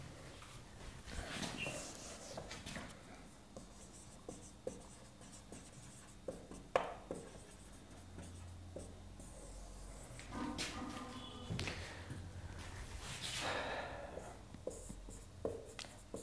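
Handwriting on paper, pen strokes scratching in short bursts with pauses between them, close and quiet with no talk.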